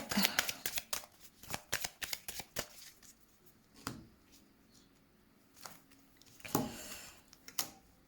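Tarot cards are shuffled for a reading in a quiet room, with a rapid run of crisp riffling bursts that slows to sparse single shuffles and then a few final flicks, close and with no voice.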